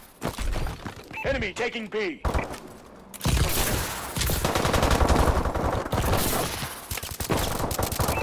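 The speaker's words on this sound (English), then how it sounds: "I'm pressing R2 to shoot." Rapid automatic gunfire and scattered shots from the shooter game Call of Duty: Advanced Warfare fill the second half. Loud, dense bursts play under in-game voice callouts.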